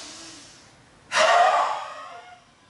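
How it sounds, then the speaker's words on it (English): A single forceful breath pushed out through the open mouth with the tongue stuck out, as in the yoga lion breath, comes after a softer inhale and trails off over about a second. "breathe in and breathe out with your tongue outside, and then just breathe out by your mouth"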